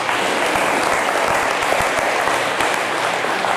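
A congregation at a Sunday church service bursts into steady, loud applause, a dense continuous wash of clapping hands throughout.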